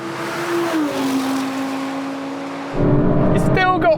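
An Audi sports car engine in a drag race holds a high, strained whine near 9,000 RPM, then shifts into a louder, rougher roar as it revs up hard.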